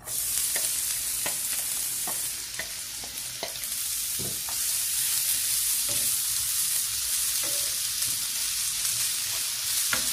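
Onions frying in oil in a pan for a chicken quiche, a steady loud sizzle with scattered crackles and pops and occasional stirring clicks, no voices.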